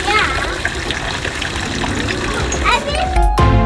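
Water splashes and trickles continuously from a gold fountain on a street in Zurich, Switzerland, under the chatter of children's voices.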